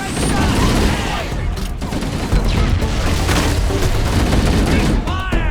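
Sustained gunfire in the video game Halo: Combat Evolved, dense overlapping shots and bursts filling the scene without pause, loud and close, with in-game soldiers shouting over the battle.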